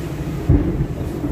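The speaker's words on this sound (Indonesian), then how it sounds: "Hujan gede banget." Heavy rain drums steadily on a loaded truck on the road in Indonesia, and a short, deep thunder rumble rolls through midway.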